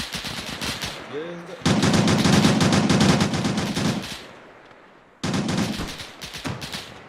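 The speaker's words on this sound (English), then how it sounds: "It's okay, I just shot a gun." Sustained automatic weapon fire in a large-scale Arma military battle, long loud rattling bursts close by, broken by a short lull before another burst resumes, with faint voices underneath at moments.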